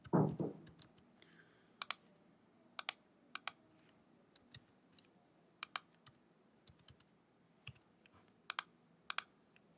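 Keys clatter on a computer keyboard while a phone number is typed into a business listing form, delivered as short irregular bursts of crisp clicks with pauses between them, close and fairly quiet, with no one speaking.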